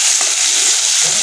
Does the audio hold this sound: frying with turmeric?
yes